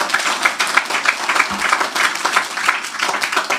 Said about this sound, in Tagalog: Isang malakas na palakpak sa ating Panginoon.